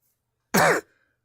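A single short, harsh cough, close and fairly loud, followed by silence.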